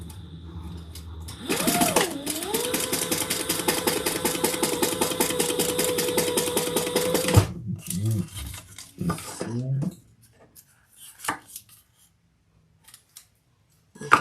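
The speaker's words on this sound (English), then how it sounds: "And we're going to stitch across the bottom." Sewing machine runs steadily for several seconds, stitching across the bottom of a leather compact clutch wallet, then stops, followed by scattered handling clicks and rustles.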